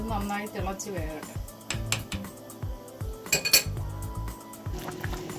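A pot of simmering Kerala-style fish curry is swirled by hand, giving repeated metallic clinks and scrapes of the vessel under a person's talk and steady background music.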